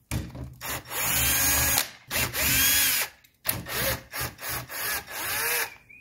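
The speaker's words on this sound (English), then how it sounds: "I'm gonna have to unscrew a couple of pieces." Power driver unscrewing parts of the antenna assembly on a 1983 Mercedes 300SD, loud and close, in several bursts of whirring with short gaps between them and no talking.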